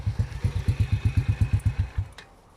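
A vehicle engine idling with a close, even low throb that cuts out abruptly as the engine is stopped, leaving near silence.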